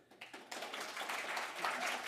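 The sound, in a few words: students' families and friends cheering and applauding at an awards ceremony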